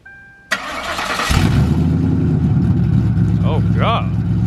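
A car fitted with an aftermarket exhaust fires up with a sharp crank and catches into a loud, deep idle that drones on steadily close by, while a voice briefly talks over it.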